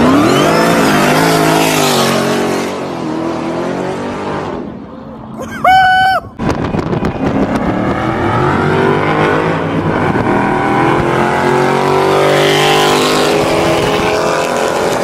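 A turbocharged Honda Civic and a 1000-horsepower Dodge Challenger Hellcat race, loud engines roaring and revving close by, easing briefly midway before surging again into sustained acceleration.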